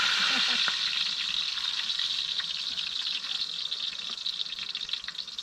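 Food sizzles and crackles steadily in hot oil over a wood fire, a continuous bright frying hiss with occasional pops, heard up close.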